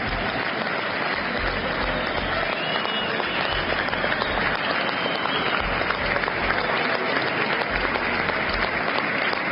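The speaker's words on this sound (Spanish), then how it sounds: "tenemos la parte de la aceptación, del aplauso" A crowd at a march by teachers and students breaks into steady, loud applause that continues throughout, dense clapping with no pauses.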